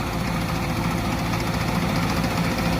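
A loud, steady combine harvester engine drone with rough low rumble and vibration, held at full throttle throughout without a break.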